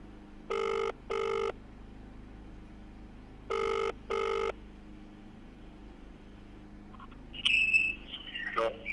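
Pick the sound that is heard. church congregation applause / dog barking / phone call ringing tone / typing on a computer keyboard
phone call ringing tone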